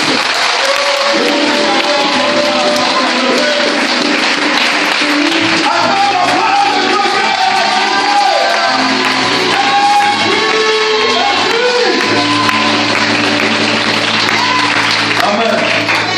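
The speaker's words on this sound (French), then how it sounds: "Je veux que quelqu'un donne une forte acclamation à la parole de Dieu." A church congregation at a prophetic worship gathering in Côte d'Ivoire bursts into loud, sustained acclamation, with cheering, shouts and clapping filling the room alongside what sounds like music throughout.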